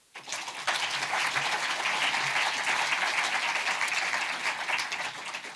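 A cinema audience bursts into dense, even applause at the opening ceremony of the 21st Brive Film Festival in 2024, rising sharply after a brief quiet start and holding steady and full throughout.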